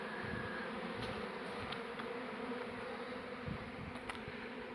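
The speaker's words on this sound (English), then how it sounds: "lots and lots of the bees have made their way into the hive box now" Honeybees swarming around a barrel beehive being relocated into a hive box, a dense, continuous close-up buzz that holds steady throughout with no voices.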